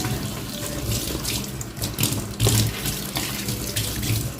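Running tap water splashes steadily into a sink, with intermittent clinks and sloshes as something is rinsed under the stream.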